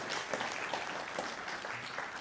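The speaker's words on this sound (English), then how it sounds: "So a round of applause for our foster care volunteers." An audience at a guide dog graduation ceremony gives a round of applause for foster care volunteers: continuous, dense clapping from many hands filling the room throughout.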